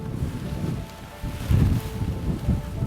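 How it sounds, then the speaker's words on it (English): Strong wind gusting across an exposed Hawaii ridge, a steady roar with louder buffets striking the microphone in bursts, with no one speaking. "so freaking windy, my goodness."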